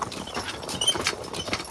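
A heavyweight Belgian draft horse working with a log cart in the woods walks along, its hooves thudding and shuffling in a steady, close plodding rhythm over rustling ground.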